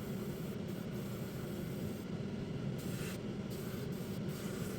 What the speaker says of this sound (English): I'm spraying up underneath the walkways and getting the frame itself